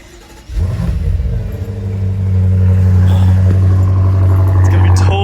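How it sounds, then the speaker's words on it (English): A BMW M5 on its stock exhaust cold-starts, the starter catching into a loud flare that settles into a steady, deep, close idle drone with no talking over it. "And yeah, let me get a last cold start. Fully stock. Last cold start."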